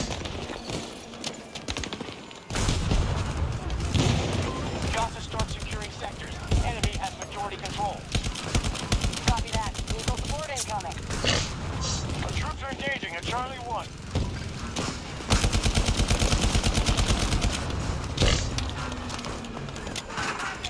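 Gunfire in Battlefield 2042 comes as rapid bursts of shots aimed at the player, mixed with other battle noise, while a voice talks over much of it.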